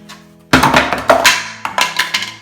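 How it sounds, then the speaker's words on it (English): Heavy thuds and cracking knocks ring out as walls and posts are ripped out during a renovation, a quick irregular series, loud and close after a quiet start. "You can hear him in the background ripping out some walls and posts."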